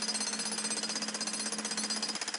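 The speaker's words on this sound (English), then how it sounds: "even with the jackhammer." A jackhammer pounds on thick driveway concrete, a fast, steady, loud rhythmic hammering up close with no talking.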